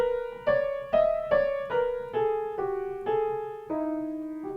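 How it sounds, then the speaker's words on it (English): A piano plays minor second intervals, two adjacent notes struck together, repeated about nine times in a steady rhythm, each dyad ringing briefly before the next, close and clear with no talking. "A minor second interval looks and sounds like this."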